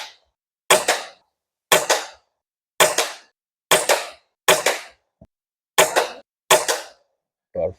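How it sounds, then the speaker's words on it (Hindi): A PX100 Achilles air rifle fired from a bench rest with a single-shot tray, giving seven loud, sharp cracks at steady intervals of about a second, each followed by quick silence. "अब हम चलाएंगे PX100 Achilles"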